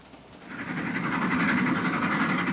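A passenger train carriage rolls steadily along the rails in a 1940s setting, giving a continuous loud rumbling hum with faint rhythmic clatter that fades out abruptly at the end.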